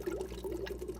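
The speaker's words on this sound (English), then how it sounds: "Let me hit you with another dose of that good tank water." Aquarium tank water poured into a betta fish setup, a soft continuous trickling and splashing with gentle gurgling ripples, faint and close, no talking.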